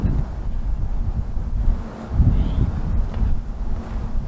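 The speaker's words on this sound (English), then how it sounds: "Well, it's a blustery day." Blustery wind on a snowy, flurrying day buffets the microphone outdoors, producing a continuous low rumbling roar that swells and eases in gusts.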